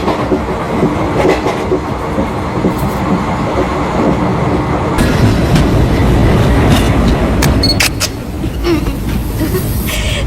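A passenger train rolls steadily with continuous loud rumble and clickety-clack of wheels on rails, the noise swelling slightly midway and holding on through to the end, with no clear stop.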